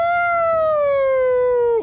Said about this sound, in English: My siren's still on.